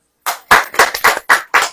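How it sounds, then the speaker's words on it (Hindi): Audience clapping at a church sermon, several loud bursts of hand claps in quick succession, close and bright, with no talk over them. "ताली बजाइए।"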